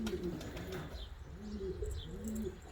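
A female pigeon in heat coos softly, a few low throaty coo phrases in quick succession, fairly faint and close, with a little light chirping around it.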